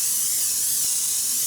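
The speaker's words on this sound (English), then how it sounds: "I got to spray this pan with Pam." A can of Pam cooking spray hisses in one steady, close, continuous burst as it coats a baking pan, with no pause and no talk.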